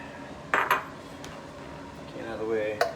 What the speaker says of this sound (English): Get our dishes out of the way.